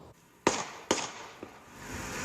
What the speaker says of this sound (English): Gunshots like these in southeast Portland are unfortunately becoming more common across the city.